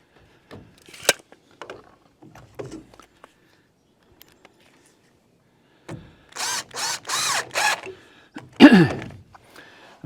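A power drill runs in several short bursts as a screw is driven into wood for a cantilevered support in a small lodge house build, loud and close with brief pauses, plus scattered handling knocks beforehand.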